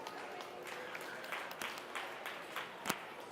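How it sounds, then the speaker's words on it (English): Faint, distant applause from a fair audience for sheep exhibitors at a sheep quality judging in North Idaho, a steady wash of clapping with a few sharper claps near the end. "But let's congratulate these exhibitors and give them a big round of applause."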